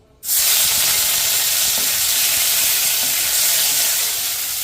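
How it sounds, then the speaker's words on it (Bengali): Five or six shrimp drop into hot oil and burst into a loud, close sizzle that holds steady as a bright, continuous hiss with faint crackles. "তো যে চিংড়িটা আমি এখানে রেখেছিলাম মানে জাস্ট পাঁচ ছটা চিংড়ি আছে তো সেটাকে আমি একটু ভেজে নেব"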